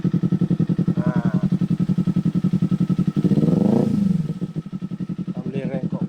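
Kawasaki Z250 Modenas motorcycle idling through a Yoshimura R77 copy exhaust with the silencer removed, a loud, steady throbbing pulse, close by, with a brief rev swelling midway before settling back to idle.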